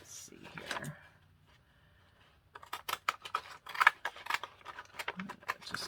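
Scissors cut gelli-printed paper up close, with a run of quick crisp snips and paper rustles after a quieter start where a voice briefly speaks.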